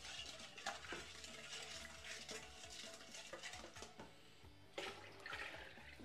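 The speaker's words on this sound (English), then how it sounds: "Give it a quick stir." Banana stout beer stirred in a vessel during homebrewing, a soft swishing and sloshing of liquid with occasional clinks of a utensil against the container, quiet and close with no talking.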